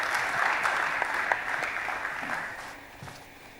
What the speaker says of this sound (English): let's clap for Professor Atonda.